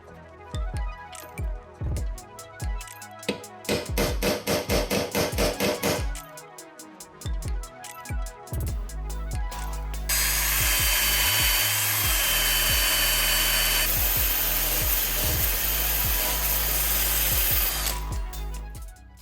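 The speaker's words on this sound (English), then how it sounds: "start grinding away some of the paint so that we can get some bare steel" An angle grinder stripping paint off steel to bare metal for engine mounts on a Nissan Micra being swapped to an Audi/VW 1.8T engine, loud whining bursts, then a long continuous grind, close up.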